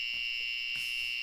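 Low-voltage alarm on a scooter battery tester sounding during a capacity test, a steady, piercing high-pitched electronic tone held continuously and loud, with faint background clicks beneath it.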